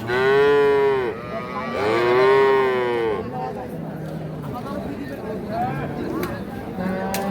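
A Holstein Friesian cow lets out two long, loud moos close by at a cattle market, followed by softer rumbling lowing and murmured voices in the background.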